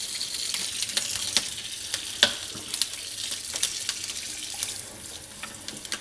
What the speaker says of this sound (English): We'll go ahead and run the hot tap water.